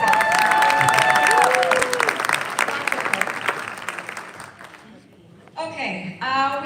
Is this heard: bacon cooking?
no